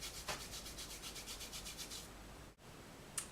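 Makeup swatches being rubbed on the skin of a hand, a soft, steady, rhythmic rubbing that repeats close and quiet, then stops, with no talking.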